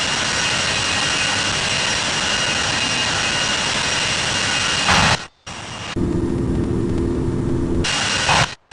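Steady, loud roar of a jet airliner engine at London Heathrow runway 27 left, broadband and sustained, briefly cut then resuming with a lower rumbling tone, no talk.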